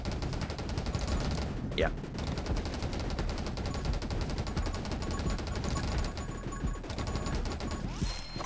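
Rapid, continuous gunfire in the roguelike shooter game 20 Minutes Till Dawn, a dense stream of shots at maximum fire rate running under game music with a brief spoken word.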